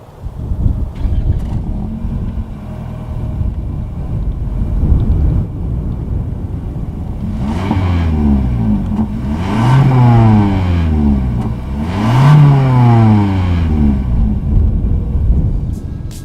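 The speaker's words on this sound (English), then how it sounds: "As always, here is that exhaust clip." A 2019 Lexus UX 200 with a single exhaust outlet idles with a low rumble, then revs up in several rising and falling bursts, loud and close behind the car, with no talk.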